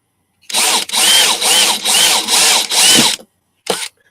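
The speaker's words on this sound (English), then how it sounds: "Maybe I can just drill them there" A power drill bores holes for a boat rudder's pintle and gudgeon on the keel, loud and close, in five even whirring bursts followed by one short final burst, with nothing else heard.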